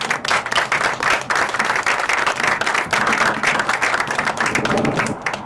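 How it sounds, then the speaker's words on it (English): Audience at a groundbreaking ceremony for Cinergy Entertainment claps steadily and loudly, a dense, sustained round of applause with no voices over it. "let's just give a big round of applause"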